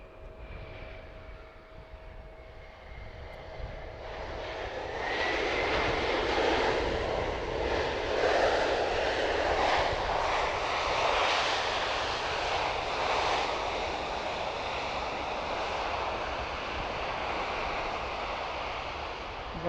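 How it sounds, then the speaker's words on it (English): Jet aircraft at a busy US cargo airport: a distant, whooshing engine roar swells after a quiet start, then holds as a broad, sustained rumble. "We'll get 3 heavies plus the Sun Country. A bonus Amazon 737."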